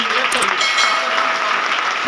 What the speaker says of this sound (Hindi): तो क्लैप फॉर सर